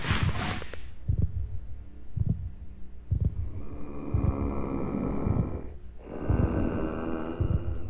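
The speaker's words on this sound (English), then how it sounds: "Oh, the heartbeat stopped." Heartbeat sound in the Minecraft game, a steady low thudding pulse with breathy, snort-like ambient layers, which cuts out near the end.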